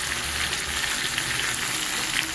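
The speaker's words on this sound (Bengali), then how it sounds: "এইবার আমি বেশ ভালোভাবে এটাকে একটু নাড়িয়ে নিই" Tomatoes fry in a pan as ground spices such as turmeric are stirred in for a bata fish curry, giving a steady, close, hissing sizzle with no talk.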